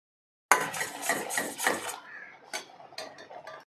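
Sugar and coconut oil mixed with a metal spoon in a small bowl, a steady run of quick scraping clinks and taps, close and moderately loud, then a few sparser knocks.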